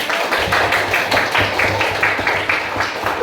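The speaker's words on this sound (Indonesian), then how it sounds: "Oke, tepuk tangan" Group clapping from students in a classroom, a dense steady patter of many hands at close range with a faint voice or two underneath.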